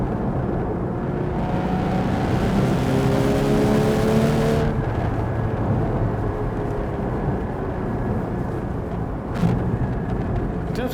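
A 2015 Porsche Cayman 981 GT4 engine heard from inside while driving, a rising rev under acceleration that peaks and drops at a gear change, then a steadier drone with a brief surge near the end.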